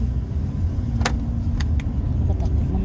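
A car's engine idles with a steady low rumble filling the background, punctuated by a few faint clicks and taps nearby.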